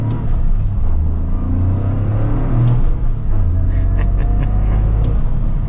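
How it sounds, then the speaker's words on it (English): A 2023 Toyota GR Corolla Circuit Edition pulls away, heard from inside the cabin as a steady loud low engine drone with some rising revving, faint voices occasionally over it. "so we are setting off now in the GR."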